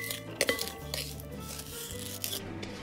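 Margarine and sugar creamed by hand in a bowl for an old-fashioned 1950s lemon cake: close, steady scraping and rubbing of a utensil against the bowl, with a couple of sharper knocks early on and no talking.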